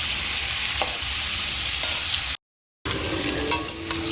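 Beans, carrots and potatoes frying in ghee with salt hiss in a continuous close sizzle, interrupted by a brief silent break, with occasional scraping stirs and small pops.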